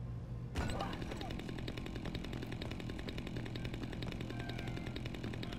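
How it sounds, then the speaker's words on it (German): A chainsaw in the video game Dead Rising 4 starts abruptly and then runs as a loud, continuous buzzing drone with a gritty pulsing texture, holding steady throughout, with faint talk underneath. "Kettensäge, Junge."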